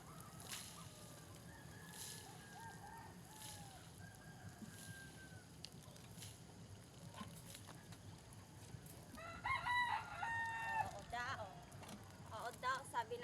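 Caged chickens on a farm cluck and call faintly at a distance over a steady low hum, with a louder burst of crowing and squawking toward the end.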